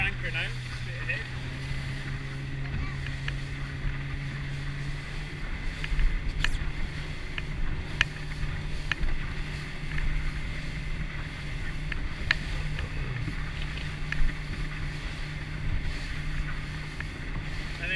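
A powerboat engine drones steadily on open water, with a constant low hum under wind and water noise and occasional sharp knocks, while people talk over it.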